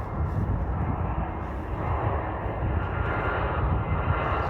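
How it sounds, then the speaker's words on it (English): An EasyJet Airbus A320 airliner coming in to land in cold 2°C weather, a loud, steady broadband engine roar held throughout without any voices. "Yup, it's an EasyJet A320."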